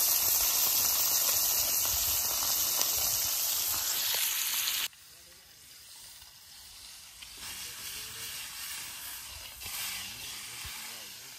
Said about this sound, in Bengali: ট্যাংরা মাছ দিয়ে দিই, হয়ে যাবে নিজে